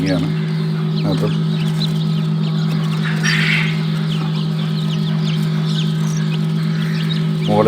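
Newly hatched chicks peep and cheep in small, scattered calls inside a homemade incubator, over a steady, loud mechanical hum that runs throughout.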